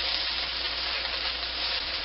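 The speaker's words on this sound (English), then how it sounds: "I just fried them for a few minutes just to give them a crispy edge." Food frying in a pan to crisp the edges, giving a dense, even sizzle that stays loud and constant from start to finish with no talking.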